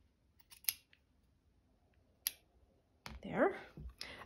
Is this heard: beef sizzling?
no